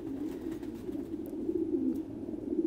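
Thai Titan pigeons at a breeding farm give a steady, low murmuring coo that runs continuously through the whole stretch, close and moderately loud, with no voices.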